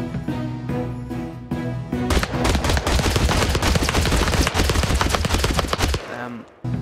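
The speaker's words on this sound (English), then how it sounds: "You're shooting at the ground, you know that." Rapid gunfire from Star Wars-themed units in Totally Accurate Battle Simulator, a dense, sustained rattle of shots aimed into the ground, loud and continuous for several seconds before cutting off sharply.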